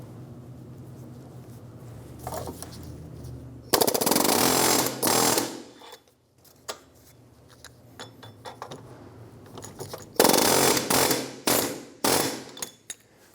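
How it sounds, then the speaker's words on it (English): Loud bursts of an air hammer driving a chisel against a corroded wheel bearing ear to twist it in the knuckle of a 2003-2007 Infiniti G35 rear hub, in several rattling runs separated by pauses and clinks. "I'm going to use an air hammer and go through the front and put my chisel on one of the ears of the wheel bearing"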